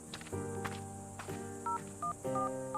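A few phone keypad tones beep in quick succession over a sustained tonal hum, with a couple of soft thumps between them.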